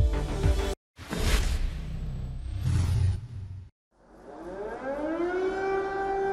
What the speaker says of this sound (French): Les sirènes d'alarme anti-aérienne ont à nouveau retenti à Kiev